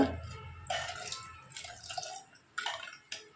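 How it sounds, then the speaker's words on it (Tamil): Water splashes and trickles into a cooking pot of ragi flour porridge in short bursts, close by and fairly quiet, with brief pauses between pours. "அது கூடயே கொஞ்சம் தண்ணி சேர்த்துக்கோங்க"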